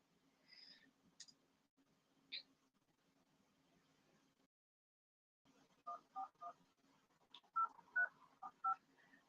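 A landline phone number being dialed to a UK water company's customer line: a few isolated tones first, then after a pause a quick run of about eight distinct DTMF beeps, moderately loud against a quiet line with no talking.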